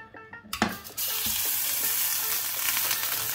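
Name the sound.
homemade beef steak frying in oiled hot pan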